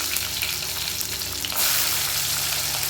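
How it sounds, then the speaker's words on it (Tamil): Shallots and garlic sizzle steadily in hot oil with mustard seeds, fenugreek and urad dal for an oil brinjal curry, with a continuous close crackle that swells louder partway through, stirred now and then. "சின்ன வெங்காயம், பூண்டு இதெல்லாம் இந்த அளவுக்கு வதக்கணுமே"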